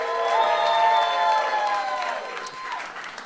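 A live podcast festival audience claps and cheers steadily in a hall, loud and sustained at first and then tapering slightly.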